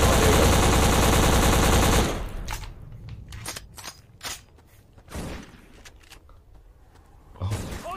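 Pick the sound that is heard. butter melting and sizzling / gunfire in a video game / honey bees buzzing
gunfire in a video game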